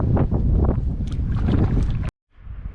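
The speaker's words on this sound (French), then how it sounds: "le vent s'est levé pas mal" Strong wind gusting over a lake on an afternoon fishing outing for brook trout and Arctic char, loud buffeting rumble with boat-like wash that cuts out abruptly near the end, then returns faintly.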